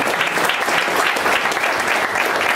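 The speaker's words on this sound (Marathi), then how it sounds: "त्यामुळे त्यांच्याबद्दलची कृतज्ञता व्यक्त करण्यासाठी परत एकदा आपण जोरदार टाळ्या वाजवूया" Audience applause at a book lovers' conference in Lonavala, a steady burst of loud clapping from a crowd indoors, lasting throughout with no voices over it.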